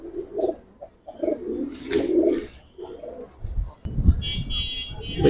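Giribaz pigeons in a collection coo in low, repeated bursts close by, with people talking intermittently over and between the calls.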